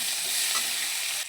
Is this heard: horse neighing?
no